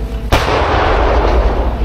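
An artillery mortar (AMC) fires a single round, a sudden loud close blast followed by a long rolling rumble and echo that fills the remaining moments.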